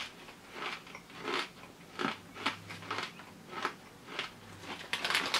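Repeated crunchy bites and chewing of chunky salt and malt vinegar crisps, close up, in a steady rhythm of about two crunches per second.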